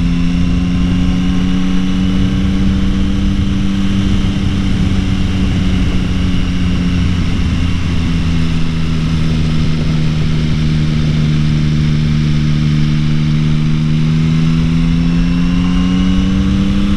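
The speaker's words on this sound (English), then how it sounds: "Isn't that a great sound? I really enjoy the sound of this engine" A 2021 Yamaha MT-09 motorcycle engine while riding: a loud, steady, close drone with a deep hum and wind rush, rising and falling only slightly in pitch, with no talking.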